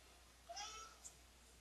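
A pet cat gives a short, faint meow, a brief single call over quiet background hiss.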